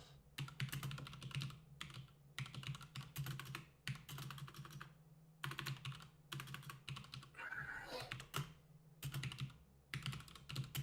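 Computer keyboard typing, rapid clustered keystrokes in bursts with short pauses, quiet and close over a low steady hum, no voices.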